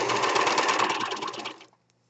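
A serger stitches fabric with a fast, even mechanical whir up close for about a second and a half, then winds down and stops.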